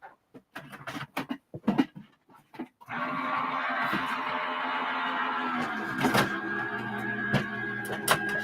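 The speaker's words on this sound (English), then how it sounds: "I'm going to pop this onto my cutting sandwich and I will run that through my die cut machine" An electric die cut machine pulls a card through its cutting sandwich in a craft room, starting with a few scattered clunks, then settling into a steady, loud motorized whir with faint rattles for several seconds.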